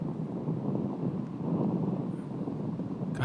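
Gusty wind buffets the microphone outdoors on a disc golf course, a steady low rumble that rises and falls throughout with no voices.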